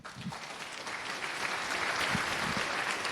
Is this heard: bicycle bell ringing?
no